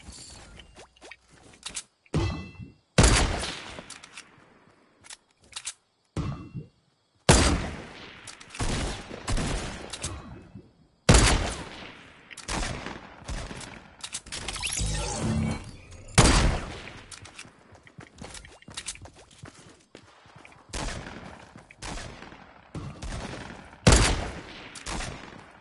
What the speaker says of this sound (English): Everybody's shooting me.